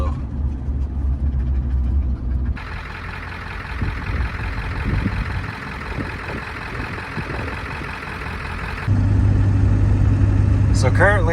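A camper drives through Grand Teton National Park, with continuous engine and road rumble inside the cab that shifts in tone and loudness as the ride goes on.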